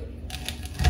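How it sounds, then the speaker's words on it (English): A knife chops through the trimmed ends of Brussels sprouts on a cutting board, a few quick close taps after a quiet start, with the last cut landing as a louder thud. "Already cut off the tips, the ends, and just gonna cut them off real quick."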